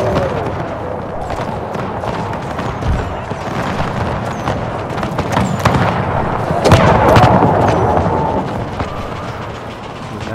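Artillery fire booms in the video game Total War: Empire 2, a dense continuous din of battle with overlapping blasts and crackling, loud and sustained throughout, without speech over it.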